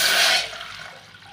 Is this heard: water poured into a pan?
yes